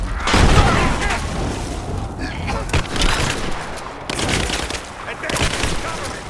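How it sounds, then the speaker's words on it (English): Suppressing gunfire in the video game Rise of the Tomb Raider, with loud booming shots and bursts repeating throughout, mixed with shouting voices and battle noise. "Give me suppressing fire!"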